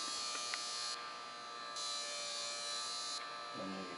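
A small electric motor runs on a bifilar double-loaded coil, putting out a steady, close, buzzing electric whine that shifts slightly in level a few times, with a faint low voice near the end.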